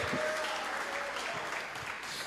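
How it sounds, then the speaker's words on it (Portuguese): A church congregation claps together during a worship service, a dense steady patter of applause filling the brief moment with a faint tonal hum beneath. "Dá glória e bate palmas para Jesus."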